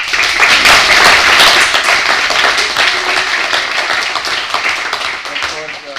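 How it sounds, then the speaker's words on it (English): Audience applause at an academic symposium and promotion ceremony, dense, close clapping that swells early and then slowly tapers, with a few voices faintly mixed in. "I think you deserve also a very nice applause."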